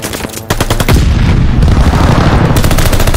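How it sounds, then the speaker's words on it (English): Rapid machine-gun fire from an enemy strafing run in the Call of Duty: Vanguard Hardpoint mode, a dense loud burst of shots starting with sharp separate cracks then merging into a continuous roaring barrage. "Hostile strafe inbound!"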